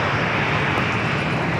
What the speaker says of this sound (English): We do have EVA Air Flight 5. It's a 777-300ER heading back to Taipei.